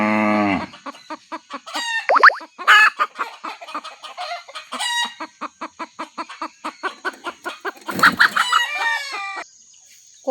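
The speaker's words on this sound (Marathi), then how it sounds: "कोंबडी आता व्यवस्थित अंड्यावरती सेट झालेली आहे आणि ती अंडी व्यवस्थितीने आपल्या पोटाखाली घेतलेली आहेत" A broody hen settled on her eggs gives a long, steady run of close, rhythmic clucks, with a few louder drawn-out fowl calls breaking through near the start and again toward the end.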